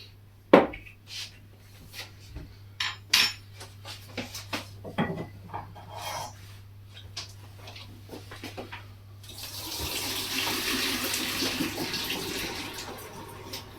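Cooked pasta being drained through a sieve into a kitchen sink: a few utensil knocks and clatters, then a steady, close rush of pouring water filling the last few seconds.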